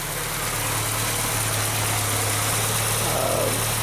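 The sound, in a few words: Volkswagen Rabbit engine with CIS fuel injection running cold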